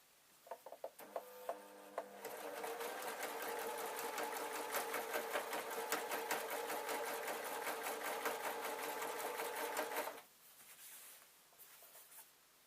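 A sewing machine stitches along a shirt hem in one steady, fast run of needle chatter lasting about eight seconds, preceded by a few light clicks and followed by quieter handling noise.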